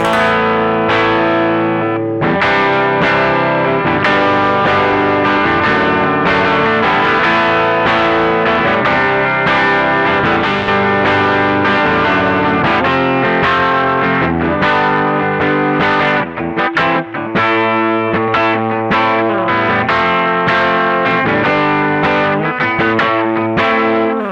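Eastman SB59V electric guitar through its bridge pickup with heavy distortion, chugging and strumming continuously, loud and bright with a thick, driven tone.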